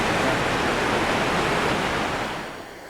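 Roaring rush of river water near a waterfall on an Ontario whitewater canoe route, a steady loud broadband wash with no voices, easing slightly at the end.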